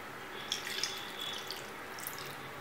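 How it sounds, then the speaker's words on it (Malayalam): Quarter cup of water poured into a cooking pot while making a Kerala prawn chattichoru, with turmeric, salt and kodampuli already added; a faint, short trickle and a few drips, quiet and close. "ഇനി ഇതിലേക്ക് 1/4 കപ്പ് വെള്ളം ചേർക്കാം."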